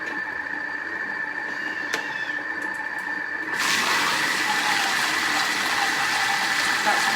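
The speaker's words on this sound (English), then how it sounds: "That's 1 whole minute now that it's mixing for us." A Thermomix with its butterfly whisk mixes silken tofu chocolate mousse, heard as a steady mechanical whir with a constant tone. It grows louder and rougher halfway through as the mixing picks up, and no one speaks.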